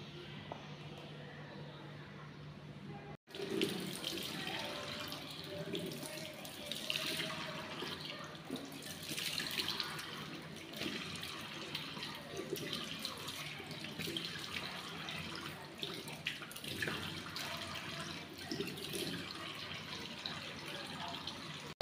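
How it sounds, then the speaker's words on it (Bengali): Tap water runs steadily into a sink for about twenty seconds while someone brushes their teeth in the morning, with a brief break near the start; close, continuous splashing with no talk. "এখন আমি দাঁতটা ব্রাশ করে নেব"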